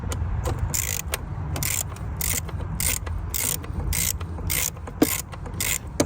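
Ratchet wrench turning the throttle body screws on a Ford Fiesta, a steady run of rapid clicking bursts in a repeating rhythm, close and fairly loud, with a low background hum and no talk.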